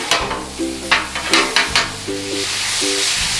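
Pineapple and Spam sizzling on a Blackstone griddle with a steady hiss, broken by several scraping spatula strokes as the mixture is stirred.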